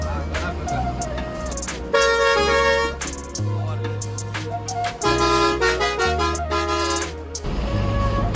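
Upgraded musical horn on a fully decorated GSRTC bus plays a loud, continuous melodic run of shifting tones, each note held then stepping to the next across the whole stretch, close and dominant.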